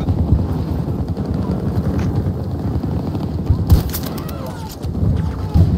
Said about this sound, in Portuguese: Helicópteros não me largam.